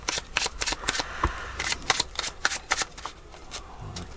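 A deck of playing cards is shuffled by hand during a magic trick, giving a close run of quick riffling snaps and flutters that comes in uneven bursts, with no talk.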